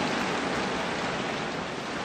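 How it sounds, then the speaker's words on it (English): Rain falling outside, a steady even hiss of drops with no breaks or swells, moderately quiet and heard alone without talk. "I think it's raining."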